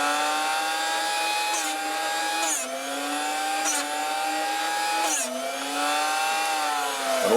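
A Drill Doctor bit sharpener runs steadily with a high motor whine and grinding tone, its pitch dipping slightly as drill bits are fed against the wheel, loud and close with no talking.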